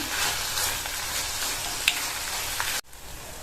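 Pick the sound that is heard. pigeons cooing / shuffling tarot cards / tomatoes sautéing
tomatoes sautéing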